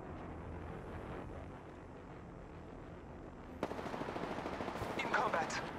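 Gunfire in the Apex Legends shooter, a muffled firefight that gives way to a close, rapid automatic burst of sharp cracks halfway through, loud and sustained, with faint voice chatter in the mix.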